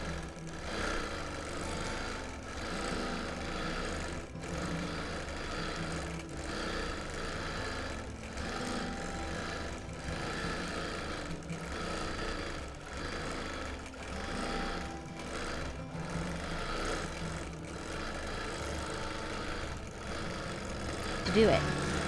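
A sewing machine free-motion quilts a friendship birthday quilt, running in a steady continuous whir throughout with slight pulsing, close and fairly loud, while someone talks over it.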